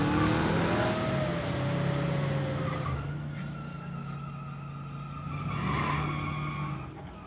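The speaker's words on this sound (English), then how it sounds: "that is side-by-side drag racing if I've ever seen it" Two drag racing cars launch side by side at a street-legal drag strip, with sharp tire squeal and a revving engine roar that swells and fades as they pull away into the distance.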